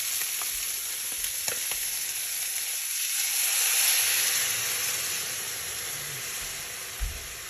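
Water heating in a pot on a stove over below-medium heat gives a steady, close hiss and soft bubbling that swells gently midway, with no voices.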